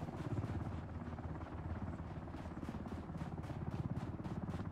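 Steady rhythmic thumping of helicopter rotor blades in the video game Ring of Elysium, with a whooshing wash, faint and constant throughout.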